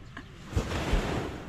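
Ocean waves washing onto a beach, a steady broadband surf wash with two soft low thumps of breaking water and some wind rumble, no talking.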